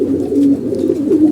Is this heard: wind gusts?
no